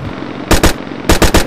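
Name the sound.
movie sound effect of gunfire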